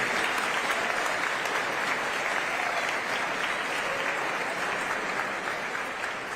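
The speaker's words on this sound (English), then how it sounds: "Let's give Roy another round of applause" Applause from the audience at a gathering at the Miami Freedom Tower, dense and steady clapping from many hands that stays loud throughout without voices over it.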